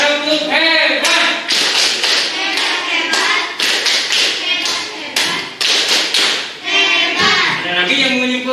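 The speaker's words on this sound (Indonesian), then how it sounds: "Tepuk tangan, tepuk hebat untuk kita." Schoolchildren in a classroom clap a rhythmic patterned cheer, bursts of tapping hands and thumps in a beat, with children's voices chanting along.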